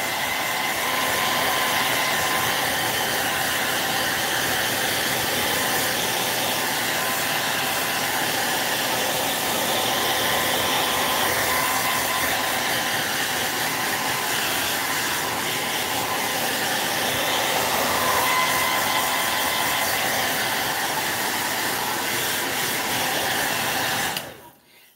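A heat tool blows steadily on clay moulding applied to an upcycled vase, giving a continuous loud airy roar with a motor whine that holds unchanged for the whole stretch before cutting off abruptly at the end.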